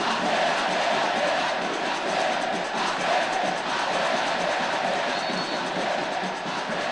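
Vitória football fans in a stadium at a 2009 Campeonato Brasileiro match against Barueri create a dense, continuous crowd roar of cheering and chanting that stays loud and unbroken throughout.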